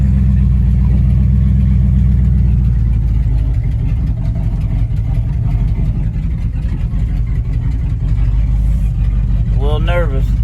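Low, steady rumble of a 1955 Buick's engine idling and pulling away on a road test, constant and close throughout, with a brief rising whine near the end.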